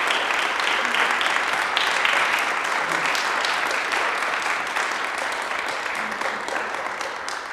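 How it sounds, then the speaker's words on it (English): A school audience at a National Honor Society induction ceremony gives the new members a sustained round of applause, a steady even wash of many hands clapping at moderate volume that tapers slightly toward the end. "give this new group a big round of applause"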